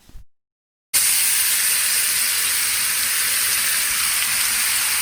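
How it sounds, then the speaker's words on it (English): Chopped raw mangoes hit a hot pan for a raw mango curry and break into a loud, steady sizzle and hiss that starts abruptly after a brief quiet moment and continues evenly with no talk. "then we're going to add in our chopped mangoes"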